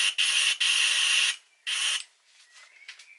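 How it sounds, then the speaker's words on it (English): Loud hissing bursts of an airbrush spraying: a long blast, a short pause, another burst, then quieter sputtering hisses trailing off. "And then we're just going to spray it in there, test spray"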